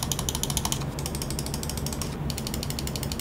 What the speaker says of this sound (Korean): 클릭 사운드도 엄청 커졌습니다